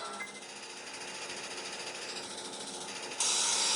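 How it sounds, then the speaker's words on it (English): Steam hissing inside the Animatronix: Help Wanted video game during a vent repair, a steady broadband hiss that runs throughout and swells sharply louder in the final half second. "Steam."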